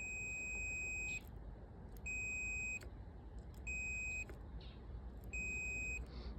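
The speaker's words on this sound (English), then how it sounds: "You hear a beeps on the multimeter itself. Will be making a beep noise." A multimeter in continuity mode beeps four times while testing a switch, each high, clean tone lasting about a second with short gaps, faint hum behind and no speech.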